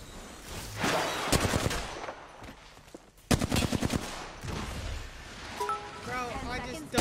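Gunfire in the battle royale game Apex Legends, with bursts of rapid automatic shots spread across the clip and a loud volley in the middle, mixed with game effects and players talking over it.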